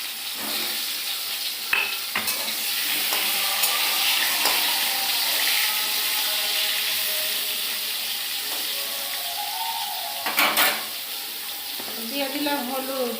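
Pointed gourd, potato, slit green chili and tomato sizzle steadily in a hot pan, a broad close hiss with occasional clicks and stirring scrapes, plus a brief louder burst near the end; no one speaks.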